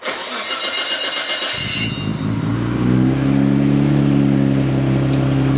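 A Nissan R32 Skyline GT-R's RB engine cranks briefly, catches and fires up, then revs and settles into a loud, steady run with a deep rumble.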